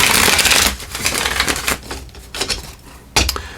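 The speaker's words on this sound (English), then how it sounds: "did I shuffle that twice? We're going to do it one more time." A deck of pick-a-card reading cards is shuffled by hand, a loud riffling burst followed by several softer rustling and tapping passes and a final sharp riffle near the end.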